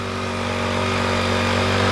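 A Honda GX50 four-stroke engine on a portable sprayer with a Sawayaka pump runs loud and close, holding a steady, buzzing drone throughout with no voices over it.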